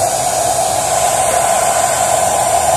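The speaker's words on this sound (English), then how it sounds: "You want to leave the blow dryer on it while you're peeling." A blow dryer runs continuously to heat a decal for peeling off a Micargi stretch bike, giving a loud, steady, even whoosh with no other sounds.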